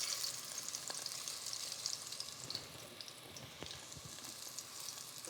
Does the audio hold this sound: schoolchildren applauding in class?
no